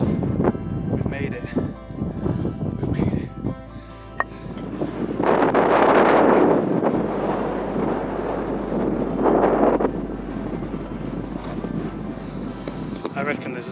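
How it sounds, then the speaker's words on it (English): Strong wind buffets the microphone on the summit of Little Ingleborough in the Yorkshire Dales, a steady low roar with two louder gusts swelling through the middle, while people talk over it. "I'm hoping you can hear me because it's quite windy."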